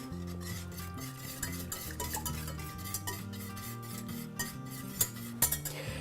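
A butter mixture melts over low heat in a pan for an Advent crown bread, stirred with a spoon that scrapes and clinks now and then, close by, under steady background music.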